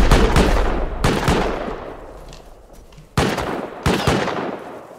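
A turret in an online raiding video game fires close and loud. Sharp bursts of shots break off and start again, with a decaying ring between bursts and no talk.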